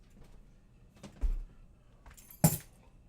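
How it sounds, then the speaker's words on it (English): A set of keys jangling and clinking in two brief bursts, the second sharper, with quiet handling noise in between. "I use my keys."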